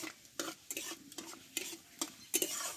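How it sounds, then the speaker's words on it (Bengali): Whole spices, panch phoron, a torn bay leaf, a clove and two cardamoms, fry in hot oil, with a steady low sizzle broken by several sharp scraping stirs of a spoon in the pan. "দেখো ফোড়নটা কিন্তু আমার ভাজা হয়ে গেছে।"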